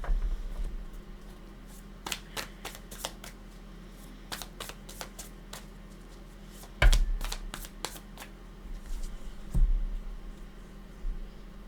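Tarot cards are shuffled and drawn by hand, giving quick crisp riffling bursts and sharp slaps and flicks, close and fairly quiet, in an irregular rhythm over soft room tone.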